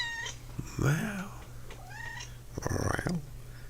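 A human voice imitating a cat, giving a few drawn-out, wavering meows in a row over a steady low background hum, with short pauses between them.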